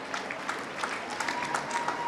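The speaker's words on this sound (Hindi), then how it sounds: "उन सब बच्चों के लिए भी आप लोग जोरदार तालियां बजाइए" A crowd claps steadily at the inauguration of a state school games event, a dense patter of many hands at moderate distance, continuous for a couple of seconds.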